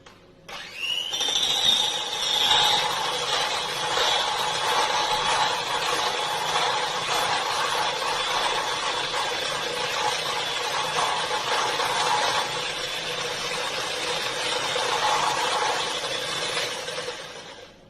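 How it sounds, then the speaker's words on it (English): An electric hand whisk whips egg for Vietnamese egg coffee, a steady whirring buzz that starts sharply, runs evenly for most of the time up close and then cuts off near the end, with no voices. "With an automatic whisker, I would whisk it till I get a slight kind of a slimy texture."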